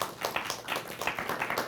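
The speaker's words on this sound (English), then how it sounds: "give her a round of applause." A studio audience applauds a guest brought up for live coaching, a dense burst of quick, close clapping that holds steady for under two seconds.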